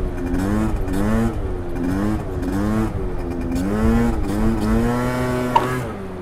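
A Yamaha Aerox scooter is revved in repeated rising bursts during a wheelie, its engine climbing and falling in pitch several times, with a sharp knock as the tyre sets down near the end.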